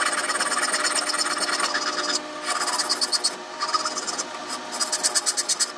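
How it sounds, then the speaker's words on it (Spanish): A metal file rasps back and forth across a cut metal washer, filing off excess metal in steady repeated strokes with brief pauses, close and fairly quiet with no talking. "vamos a utilizar una lima para quitar el exceso de metal que nos queda"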